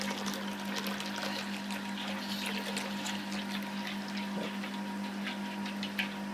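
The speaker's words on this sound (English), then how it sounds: "Filling up the kettle, and about the water coming in about the same pace." Wort from the first runnings of an all-grain homebrew pours steadily into a boil kettle, a continuous close splashing and trickling with a low steady hum underneath, no talking.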